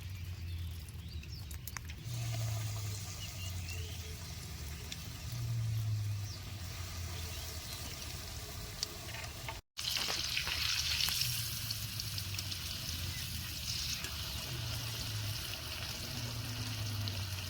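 Eggplant pakoras fry in medium-hot oil, a steady soft sizzling and bubbling that continues throughout with occasional louder crackles, close and fairly quiet, with no talking.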